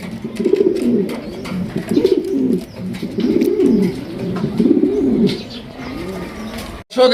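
Several pigeons at a pigeon market coo in deep, throaty repeated phrases, close by and steady, with a sharp knock near the end.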